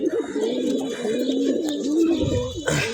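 Pigeons coo continuously in a low, throaty warble, close by and fairly soft.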